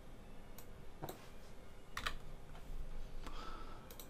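Computer keyboard shortcut keys pressed in quick pairs, a few sharp isolated clicks spaced apart over a quiet room hum, close and fairly faint.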